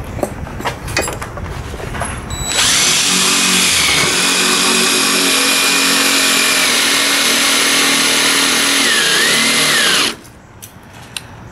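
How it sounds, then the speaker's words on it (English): A power tool tightening a bolt during an electric installation runs loud and steady for about seven and a half seconds, a continuous high whirring drone with a slight pitch dip near the end, bracketed by brief handling clatter before and after. "Now I'm going to tighten up this lower bolt"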